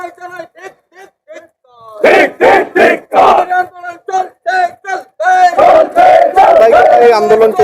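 A protest rally crowd chants slogans in rhythmic unison on a state road, loud and close, with one voice leading the call and the group answering in repeated bursts.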